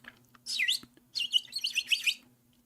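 Several small birds chirp and tweet in quick bursts, a short twittering flurry followed by a longer run of bright overlapping calls, fairly close over a faint steady hum.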